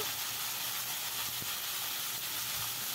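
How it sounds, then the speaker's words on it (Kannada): Cut drumsticks frying in a pan over a low flame for sambar give a faint, continuous sizzling hiss that stays steady and even from start to finish. "ಸಣ್ಣ ಉರಿಯಲ್ಲಿ ಇದನ್ನೇ ಫ್ರೈ ಮಾಡ್ಕೋಬೇಕು"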